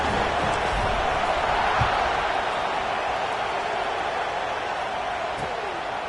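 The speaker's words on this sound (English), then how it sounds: "this crowd is buzzing after that last score" A stadium crowd in a Madden football video game keeps up a steady, dense roar and buzz throughout, with a commentator's voice talking over it.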